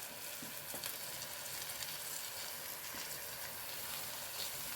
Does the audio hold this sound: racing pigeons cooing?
no